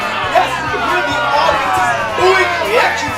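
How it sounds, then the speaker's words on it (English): A live audience at a sketch show reacts as one loud crowd, voices blending into a sustained, close, jeering boo with some higher shouts mixed in. "audience's booing reactions"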